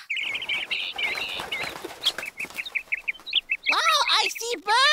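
Birds flap their wings in a children's TV show, a busy rustle of wingbeats mixed with chirps and clucking calls, then a burst of louder, sweeping bird cries near the end, with voices cheering faintly underneath.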